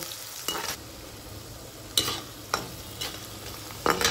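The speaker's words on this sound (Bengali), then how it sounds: "কুচানো পেঁয়াজটা দিয়েও ভালোভাবে নাড়িয়ে নিচ্ছি।" Chopped onion fries in a pan for mutton kassa, with a steady low sizzle broken by five sharp scraping stirs of the spoon. No one speaks.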